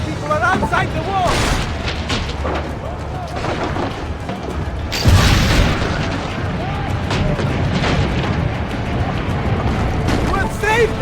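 Cannon fire and heavy booms in Assassin's Creed Brotherhood during a wall siege, loud close blasts with one strong impact midway, mixed with battle clatter and shouted voices.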